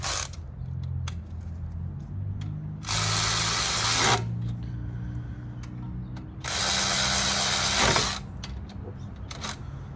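Ratchet tightening brake bolts on a 1992–1996 Toyota Camry/ES300 front brake job, two bursts of rapid clicking that last over a second each, with scattered metallic taps and clinks between, close and without talk.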